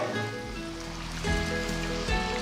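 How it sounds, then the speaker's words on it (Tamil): Water pours and splashes into a pan in a steady trickling stream, with a couple of louder gushes, no voices. "இப்போ நான் வந்து கொஞ்சமாக தண்ணி ஊற்ற போகிறேன்"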